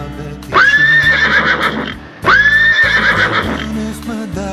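A horse whinnies loudly and close by, two long shrill neighs in a row with a short pause between them and a faint clatter of hooves underneath.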